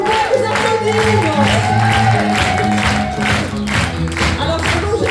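Audience applause and cheering at an improvisation comedy show, a loud crowd clapping steadily for several seconds under sustained musical tones, with individual claps pulsing through the mix.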